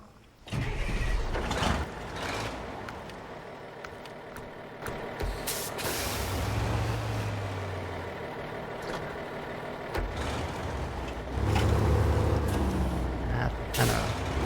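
A truck engine in the video game SnowRunner, set at Island Lake, Michigan, runs steadily with low rumbling, revving swells and hissing air-brake bursts, heard under someone talking.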